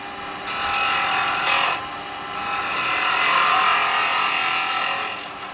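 A woodturning lathe with a carbide chisel tapers a spinning wooden Christmas smoker figure, giving a steady close scraping whir that swells and eases in long strokes, with no talk.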